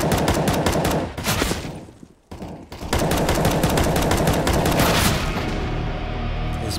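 Loud, sustained automatic gunfire from Counter-Strike: Global Offensive rattles in rapid bursts with a brief break partway through, followed by more continuous fire that tapers slightly at the end.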